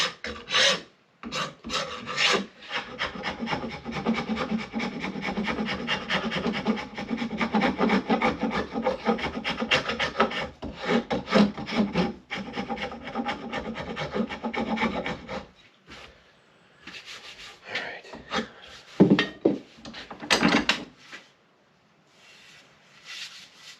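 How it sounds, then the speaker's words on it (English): A wooden axe handle is sanded with steady, close rasping strokes for most of the stretch, then scattered shorter scrapes broken by pauses toward the end, with no talking. "I try to do as much as I can with a draw knife, and then I hit it with that mouse sander."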